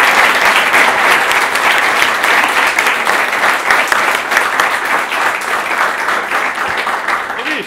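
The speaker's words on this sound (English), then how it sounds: "round of applause for our panelists" Sustained audience applause for the panelists at a meetup talk, steady dense clapping from a sizable crowd throughout, fairly loud and continuous without fading.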